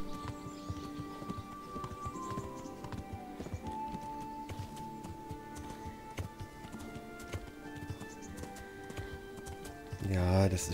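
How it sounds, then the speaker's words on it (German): Galloping horse hooves in the medieval video game Kingdom Come: Deliverance, a steady clip-clop running under layered game music with a louder swell near the end. "Pferdchen läuft Galopp."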